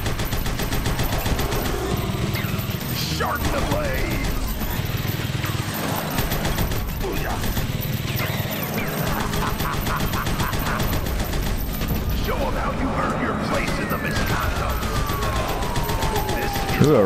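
Rapid, sustained gunfire from a weapon in the side-scrolling action game Huntdown rattles continuously under a dense, loud mix of explosions and game music, with a siren-like rising tone near the end.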